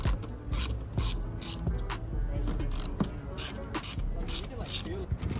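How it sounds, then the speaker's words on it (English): Torx 20 driver backing out four bolts on a Ford F250 light housing, a fast run of close ratcheting clicks and small metallic scrapes that continues steadily for several seconds. "I'm gonna go ahead and use a Torx 20 to get these 4 bolts out"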